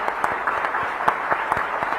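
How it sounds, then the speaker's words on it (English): Audience at a Raisina Dialogue 2023 panel of foreign ministers gives steady applause for the guests, a dense even patter of many hands with a few sharper claps standing out. "Please join me in applauding the esteemed guests for the contribution."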